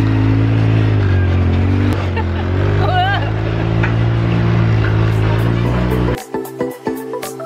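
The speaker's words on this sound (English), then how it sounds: "We're driving on the beach." A car drives along a black sand beach at Kamari, Santorini, its steady engine drone and rumbling tyres running loud under continuous talk, then the engine noise cuts out abruptly near the end, leaving sparse clatter.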